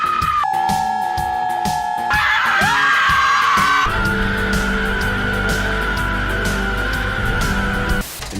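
A woman in a Supergirl movie lets out a long, loud, sustained scream over dense, roaring background noise, her pitch shifting partway through, the sound cutting off abruptly at the end.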